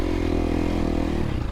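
A 2023 KTM 350 SXF dirt bike fitted with a Vortex ECU accelerates along a trail, a loud, close, steady engine drone lasting just over a second.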